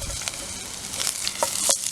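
Garlic fries in hot oil, sizzling and crackling steadily in a hot pan, with a few sharp spits and pops, close and moderately loud.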